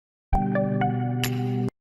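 A short notification bell chime sounds, struck once and then ringing on in a steady sustained tone, with a brighter accent near its end before it cuts off cleanly, alone with no voices.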